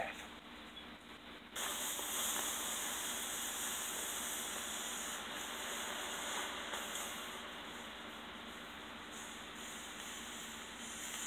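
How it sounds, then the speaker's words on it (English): Hot metal quenched in water: a loud, steady steam hiss bursts in after a brief quieter moment and continues broadband, easing slightly toward the end. "I'm gonna rapidly cool the metal that fell out"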